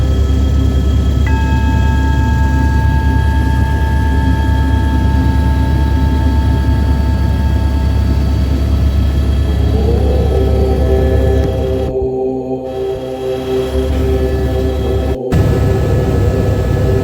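Helicopter descending to land at Panchtarni on the Amarnath Yatra route from Pahalgam, a loud, steady engine and rotor roar heard from inside the cabin with a shifting whine near the end.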